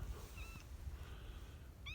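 A cat meows outdoors at a cattle farm in winter, ahead of a storm: two short rising calls, one near the start and one at the very end, set against steady wind and low rumbling noise.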